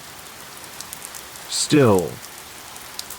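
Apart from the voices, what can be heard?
rain tapping on a window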